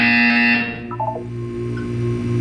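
A single electronic buzzer tone in the video game Portal 2, loud and harsh, cutting off after about half a second, followed by brief soft chime-like notes over a steady low hum.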